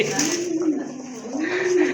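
Pigeons coo steadily in a loft or market where quality birds are kept, a continuous low warbling rolling on and off over the full stretch, close and fairly loud.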